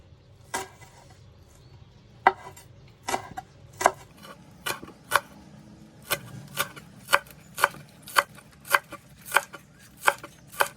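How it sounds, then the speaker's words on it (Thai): A knife chops onion on a board for a Northern Thai mushroom dish, with sharp, close knocks that start sparse and irregular, then settle into a steady, evenly spaced rhythm. "หันหัวหอมไปเลยครับ"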